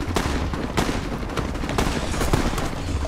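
A gunfight in the video game Fallout New Vegas, with a dense stream of overlapping gunshots cracking back and forth at a steady, fairly loud level and no pauses.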